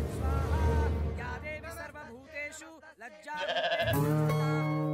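A goat bleats in a film scene, a few wavering cries standing out over music and a busy background, moderately close, with gaps of near silence between.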